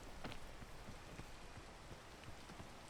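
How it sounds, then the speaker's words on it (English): Steady rain falling in the climbing video game PEAK, a constant faint hiss with scattered light patter of drops throughout, no voices. "Let's see if the rain is making it too slippery."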